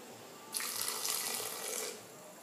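Water pours into a blender holding toasted chilies for a sauce, a close, steady splashing stream that starts suddenly, runs for about a second and a half, then stops, leaving faint room noise.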